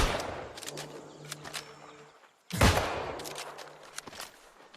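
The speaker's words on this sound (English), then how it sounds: "We're using the rifle now." Rifle gunfire in the New World online game: a loud close blast partway through, surrounded by scattered sharper shots and distant crackling volleys, with faint footstep-like clatter in between.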